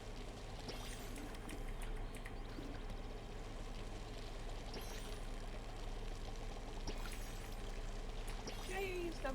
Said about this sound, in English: I hate running with the watering can because it makes that sloshing sound.